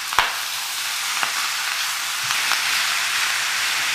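Pork searing in a very hot pan to render out its fat gives a steady, close, bright sizzle with a few sharp crackles and pops near the start, with no voices.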